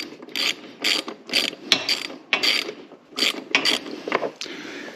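Socket ratchet clicking in quick repeated bursts while loosening a bolt on a Dixon zero-turn mower deck, close and fairly loud, with short pauses between strokes.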